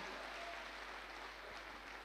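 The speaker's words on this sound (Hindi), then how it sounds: "एक जोरदार ताली गोपाल जी के लिए" Audience applause in a hall during a motivational speech, a steady burst of many hands clapping, moderately distant and continuous.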